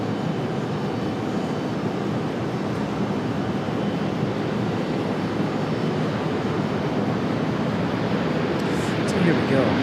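A FedEx ATR turboprop at Raleigh-Durham International Airport gives a steady, loud broadband engine roar lasting throughout, constant and unbroken, with a faint talking voice underneath.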